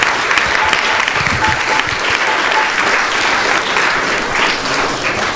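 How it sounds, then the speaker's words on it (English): Dense, loud applause from a congregation after a Sunday feast class at an ISKCON temple in Phoenix carries on evenly throughout, a full room clapping together without pause. "Big round of applause for wonderful class."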